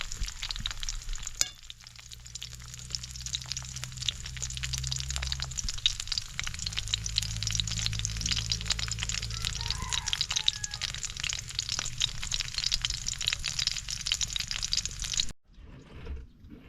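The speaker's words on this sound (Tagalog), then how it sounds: "Ayan po tayo na may nagpiprito na rin." Food sizzles steadily in a hot pan, a constant crackling hiss with faint clatter, ending abruptly.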